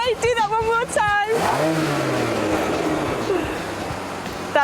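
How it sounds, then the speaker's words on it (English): A voice speaks briefly before a car engine revs, swelling into a loud, close, rising roar that holds steady for several seconds. "tone of the car when I rev it. Vroom, vroom."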